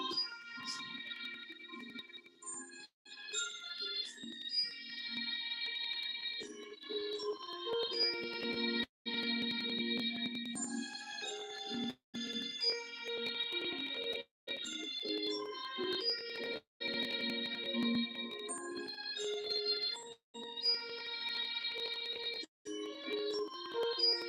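A mobile phone ringtone plays a bright, repeating electronic melody of layered tones, ringing steadily and fairly loud for over twenty seconds with a few brief gaps between phrases, with no voices.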